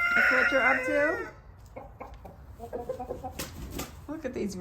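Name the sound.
roosters crowing and clucking in the rain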